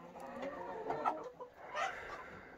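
Laying hens of mixed ages, young pullets and older birds, cluck steadily and softly nearby in a coop, with overlapping calls and no talking.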